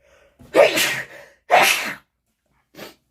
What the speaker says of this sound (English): I'm going to sneeze real quick, I feel like.